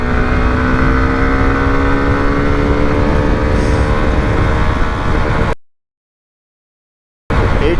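Hero Xtreme 125R motorcycle engine accelerating hard in third gear, a steady loud drone with harmonics slowly rising in pitch and wind rush, cut off abruptly near the end before noise returns briefly.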